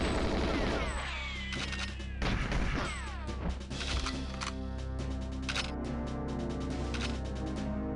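Gunfire in the 1997 Nintendo 64 game GoldenEye 007 in open terrain, a dense run of sharp shots and crashing impacts over game music, loud and continuous with no talk.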